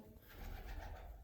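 Pigeons coo softly and steadily inside a room of a house in Sardinia, a faint, continuous murmur with no voices.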